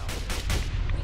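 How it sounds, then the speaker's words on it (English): A rapid burst of loud, booming gunshots in the video game Fallout 4, several blasts close together in a short span. "I hear gunfire everywhere."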